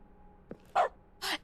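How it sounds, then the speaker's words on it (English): Short dog barks triggered by keystrokes in The Stanley Parable: Ultra Deluxe, three brief separate yelps spread over a second and a half, fairly quiet against a near-silent background. "Any keystroke is a dog now."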